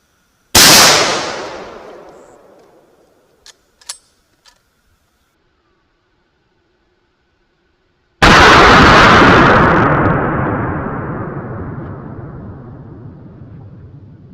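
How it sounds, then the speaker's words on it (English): A .416 Ruger big-bore rifle fires into ballistics gel, giving a loud sharp blast with a long decaying tail, a few small clinks, then a second equally loud booming report that rolls away slowly. "416 Ruger, ballistics gel."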